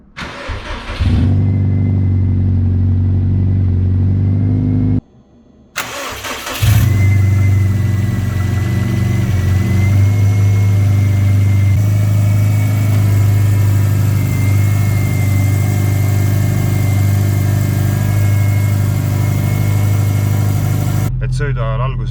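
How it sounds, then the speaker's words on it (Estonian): A car engine cranks and catches after a short pause, then settles into a steady, loud idle that runs on with a low rumble. "Et ma käivitan nüüd auto."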